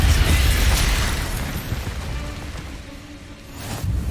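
Fire spell cast in the video game Hogwarts Legacy, a loud bursting whoosh of flame at the start that fades through the middle, then flares again near the end.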